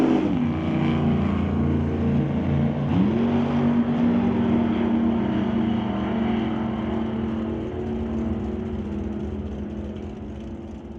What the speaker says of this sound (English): Dean Peterson, the next one up, running the Super Gas 990 Index in the open-top Mustang